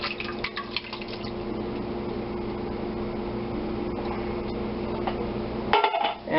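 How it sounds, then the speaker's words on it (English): Diced tomatoes pour into a larger cooking pot with a continuous wet, sloshing rush lasting several seconds, ending in a brief clatter of the can or utensil against the pot, close up and with no talk. "Pour in our diced tomatoes."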